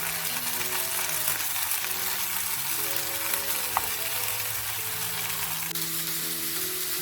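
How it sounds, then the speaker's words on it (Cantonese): Cheese-stuffed tomatoes frying in a pan, the cheese browning against the hot surface: a steady, even crackling sizzle that runs unbroken throughout with no voices. "將啲芝士煎香煎燶"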